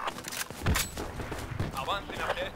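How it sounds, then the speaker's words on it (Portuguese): Gunfire in the military shooter Project Reality during a Falklands War battle, several sharp shots and short bursts crackling close and farther off, with voices talking over the fighting. "Pela orla, os caras tão atirando muito,"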